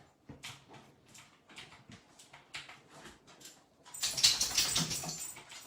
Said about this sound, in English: Oh, the dog woke up.